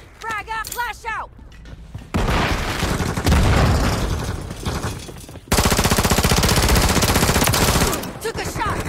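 Gunfire and grenade explosions in Call of Duty: Modern Warfare 3, with dense rapid automatic fire and heavy booming bursts filling the scene loudly, while someone talks briefly at the start.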